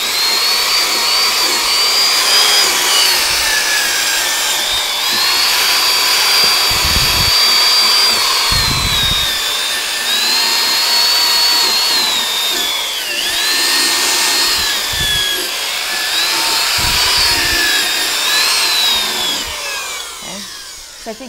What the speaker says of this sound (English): You just hook this drill brush to like one of your drills here, tightens up, okay? And then what it does is it buffs your finish.